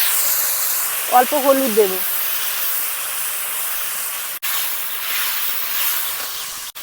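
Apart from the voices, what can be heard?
mustard paste water poured into hot pan, hissing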